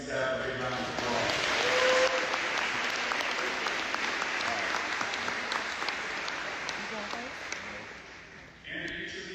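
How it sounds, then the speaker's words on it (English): A large crowd applauding the coaching staff at a National Signing Day event, sustained broad clapping that swells early then slowly fades, with voices faintly heard near the end. "Let's give the coaching staff a big round of applause."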